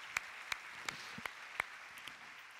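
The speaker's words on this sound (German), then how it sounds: "Genau, Applaus" Slow, sparse clapping during a Grand Prix riding lesson with Ingrid Klimke, about eight sharp, evenly spaced claps, quiet and somewhat distant, with no talk over them.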